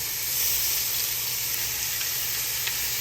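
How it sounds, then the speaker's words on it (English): Whole shrimp searing in a hot skillet produce a continuous close sizzling hiss with a few faint pops, steady throughout. "Now we're going to throw this shrimp right in here, y'all. Give me a nice, good sear on it."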